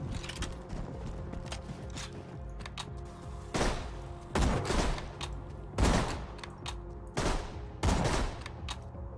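Gunfire while shooting enemies in Borderlands 2: loud, sharp shots, single and in short bursts, spaced every second or so over a steady mechanical hum of background game sound.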